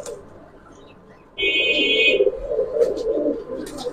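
Giribaz pigeons give soft, throaty coos that start abruptly and roll on in repeated low murmuring phrases, close by, with a brief high tone and faint chirps alongside.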